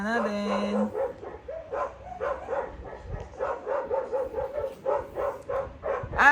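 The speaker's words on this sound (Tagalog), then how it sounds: "Ang ingay-ingay ng mga aso" Several dogs bark in rapid, repeated bursts, near and fairly loud, with a person talking at the start and over parts of the barking.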